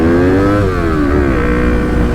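A Yamaha MT motorcycle engine revving hard and close, a loud sustained whine that rises, dips slightly and climbs again without letting off.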